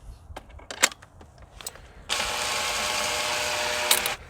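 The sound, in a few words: tightening drill chuck with chuck key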